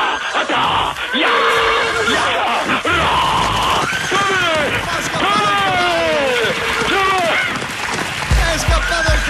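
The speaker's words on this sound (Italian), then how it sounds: "È scappato al galoppo il cavallo, non lo beccano più." Horse neighing loudly on a stage set, a long run of shrill, wavering whinnies stacked over shouting and crowd noise, close and dense throughout; no clear galloping hoofbeats stand out.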